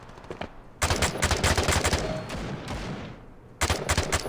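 Automatic gunfire in the mobile shooter game Standoff 2, rapid bursts of close, loud shots, a short volley, then a long sustained stream, a pause, and another burst.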